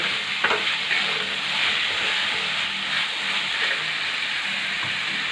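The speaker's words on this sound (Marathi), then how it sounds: "मटकी असे छान दोन मिनटं तेलामध्ये मसाल्यामध्ये परतून घ्यायची" Sprouted moth beans frying in oil with masala, a loud, continuous sizzle and hiss close up, with stirring scrapes running under it for the whole stretch.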